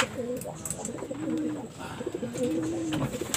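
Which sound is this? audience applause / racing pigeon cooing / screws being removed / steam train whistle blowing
racing pigeon cooing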